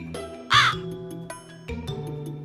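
A crow caws once, loud and close, in a Hindi cartoon. The cartoon's music plays underneath.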